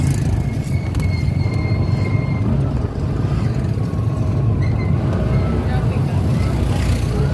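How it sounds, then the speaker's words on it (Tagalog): Busy road traffic in the rural Philippines, a steady dense rumble of passing cars and engines close by, with people chatting over it throughout. "Still traffic."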